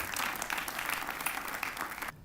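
Audience applause at an event in the Museum of the Bible, a thick continuous rush of clapping from many people that holds steady, then cuts off abruptly at the end.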